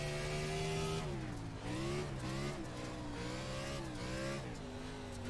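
NASCAR Cup cars racing on the Bristol dirt track in iRacing, engines droning and revving steadily with shifting pitch as the pack runs together, continuous and fairly close throughout.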